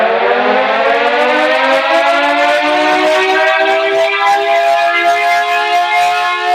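A municipal corporation siren in Kannur wails loud and steady, a single sustained mechanical tone that slowly drifts in pitch for several seconds with nothing else heard.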